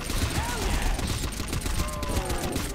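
STG assault rifle fire from Call of Duty World at War Zombies comes as dense automatic bursts under continuous game noise. Zombie-like moans rise and fall over it, and a voice may be mixed in.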